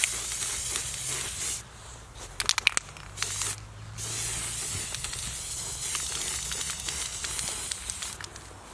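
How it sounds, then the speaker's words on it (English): A spray paint can hisses out Kubota orange paint onto a steel plate for a compact tractor front loader, with a first burst, a pause with a few clicks, and then a long continuous spray close by. "So I also have a spray paint with Kubota new orange."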